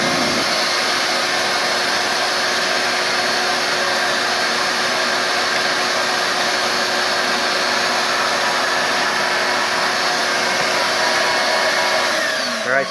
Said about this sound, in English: So basically, my shop vac hose goes in through the top,